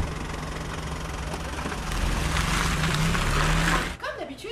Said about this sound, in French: le moteur marche bien